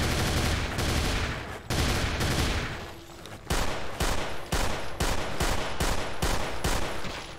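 Heavy pistol gunfire in Doom 2, loud shots in bursts: two long sustained volleys, a brief pause, then a quick run of separate, evenly spaced shots.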